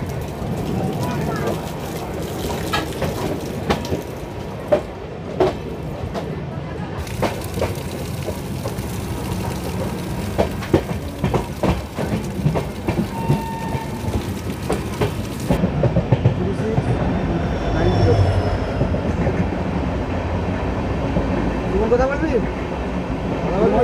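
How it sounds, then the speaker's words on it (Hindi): A train hauled by a WAP 5 locomotive rolls into Jammu Tawi station, wheels clattering steadily over the rails at moderate distance, with people talking throughout. "कोई ट्रेन अराइव हो रही है अपनी जम्मू तवी में WAP 5 के साथ"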